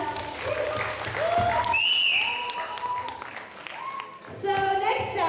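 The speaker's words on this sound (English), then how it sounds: "Let's give her a round of applause." Applause from a small audience at a children's camp performance runs beneath bright tonal music, with some chatter mixed in.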